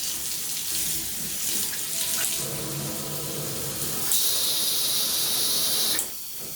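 An oxygenics PowerMassage handheld shower head, on poor water pressure, sprays water in a steady broad hiss that grows brighter and stronger partway through, then cuts back down near the end, close and without talking.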